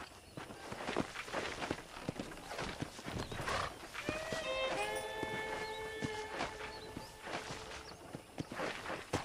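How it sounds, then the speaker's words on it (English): Steady horse hooves clip-clop in a quick rhythm over a background hum in the video game Red Dead Redemption, with a brief horse whinny partway through; no talking. "Okay, let's see if you can still ride a horse."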